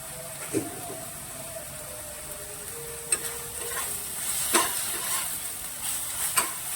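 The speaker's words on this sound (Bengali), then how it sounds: "এগুলো মশলাটা ভালো করে ভাজা হলে তারপর ব্যবহার করবো" A soft, steady sizzle of spices frying in a pan, broken by a few sharp clinks and scrapes of a stirring utensil.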